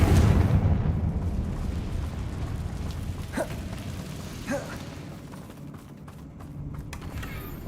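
A Confringo blasting spell explodes in the video game Hogwarts Legacy, a deep booming rumble that slowly fades under faint creaks and a few brief higher tones.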